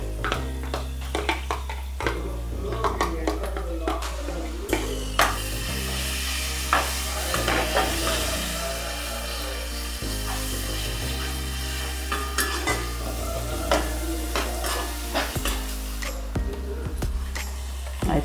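Grated raw mango for mango pulihora is stirred and fried in a pan, with repeated scraping stirs over a steady sizzle and no speech.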